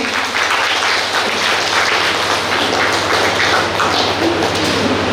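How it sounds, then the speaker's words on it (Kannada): Loud, sustained applause from an audience fills a community event at a Ganiga Bhavan hall, a dense, steady clapping that continues evenly throughout. "ಜೋರಾದ ಚಪ್ಪಾಳೆ ಬರಲಿ"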